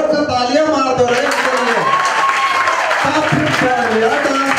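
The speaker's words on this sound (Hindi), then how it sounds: "अरे जोर से तालियां मार दो रे" An audience claps at a group dance audition in Mehsana, a steady wash of applause with voices talking over it throughout.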